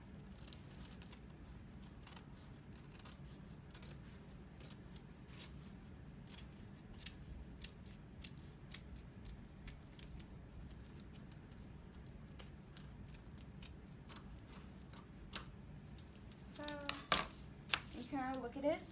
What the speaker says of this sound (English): So we grab our scissors, and we're going to cut out this white part.